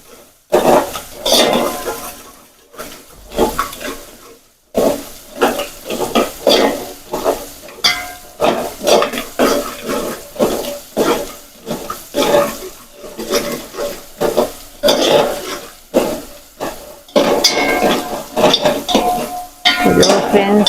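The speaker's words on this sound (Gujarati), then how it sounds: "આપણે તેને હલાવતા રહેવું પડશે, નહીં તો તપેલામાં બળી જશે" Garlic and onion fry in a pan while being stirred, with a spatula scraping and clinking in irregular bursts over constant close sizzling and occasional watery sounds.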